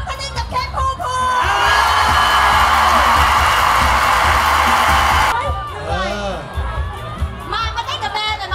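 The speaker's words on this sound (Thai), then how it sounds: "ขอเสียงกรีดร้องต้อนรับ" A crowd at a televised traditional football draw press event screams and cheers in welcome, a loud sustained roar of shrieks and yells lasting several seconds, with voices talking before and after.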